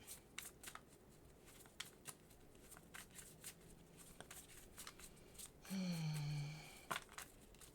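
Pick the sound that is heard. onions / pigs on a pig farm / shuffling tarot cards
shuffling tarot cards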